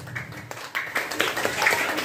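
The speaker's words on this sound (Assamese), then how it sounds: "সকলোৱে নিজৰ কাৰণে এটা হাত চাপৰি বজাওক" An audience at an outdoor foundation-day gathering in the rain claps hands in scattered, uneven bursts that build toward a fuller round of applause, moderately close.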